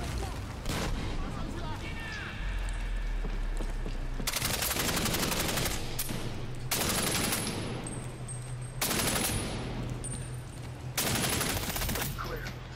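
Shotgun blasts ring out in the video game Medal of Honor Warfighter, several loud, evenly spaced reports each followed by a decaying roar, over a low game soundtrack.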